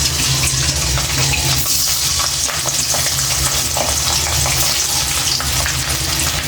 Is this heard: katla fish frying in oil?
yes